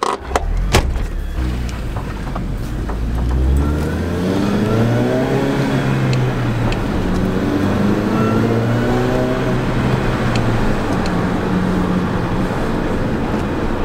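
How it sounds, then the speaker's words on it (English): A supercharged Mini Cooper R53 accelerating on the road, its engine note climbing steadily in pitch through the gears, loud and close from start to finish with no talking. "We are just taking it out for a drive right now."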